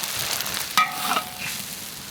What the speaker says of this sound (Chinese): 来，鸡蛋下去炒